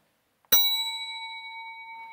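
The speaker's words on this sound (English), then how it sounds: "so there's my bell" A single bright strike on a hand bell during a science lecture demonstration, followed by a clear sustained ring that slowly fades, heard alone in a quiet room.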